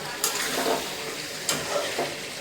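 Chicken is sautéed for curry with softened onions, giving a soft, steady sizzle close by, with two or three brief scrapes of a spoon stirring the pan.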